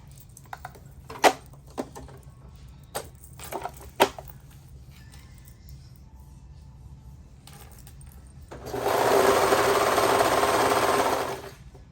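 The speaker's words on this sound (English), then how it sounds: "And then you're gonna sew along." A sewing machine stitches the crotch seam of a peanut pattern, a steady, fairly loud whirring run near the end, after scattered soft clicks and handling taps.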